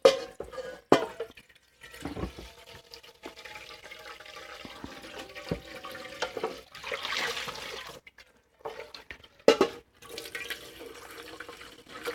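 Tap water runs into a kitchen sink to fill it with soapy water, flowing in bursts with splashes and drips and stopping briefly between runs.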